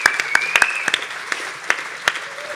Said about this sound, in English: They should get a round of applause.